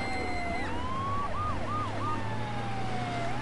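Wailing fire truck siren in the game GTA 3, loud and continuous, rising and falling in repeated sweeps over a steady low engine drone, with no talking.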